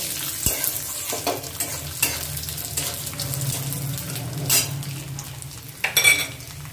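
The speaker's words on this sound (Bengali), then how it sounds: "কিশমিশ, চিনেবাদাম, সবগুলো একটু নেড়ে নেব।" Cashews, raisins and peanuts tossed in a hot pan, with a close sizzle under repeated scraping stirs and metal clinks of the spoon against the pan, including a sharp knock near the start.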